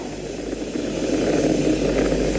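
A SpaceX Falcon 9 throttles its Merlin 1D engines back up to full power after max Q during ascent, a dense, continuous roaring rumble that builds slightly in strength with no voices over it.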